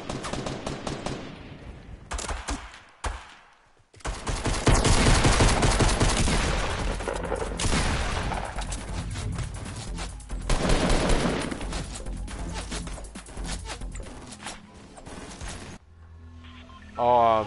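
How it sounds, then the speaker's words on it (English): Gunfight gunfire in the video game Fortnite: dense bursts of automatic and single shots crackle nearly nonstop, loud and close, with short gaps between volleys and a voice talking over parts of it. "I got in a gunfight with two guys, and I lost against one, and I was missing my shots."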